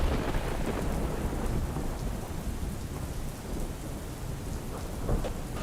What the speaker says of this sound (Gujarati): સુરતના વિવિધ વિસ્તારોની અંદર સવારથી જ્યારે ભારે વરસાદ પડ્યો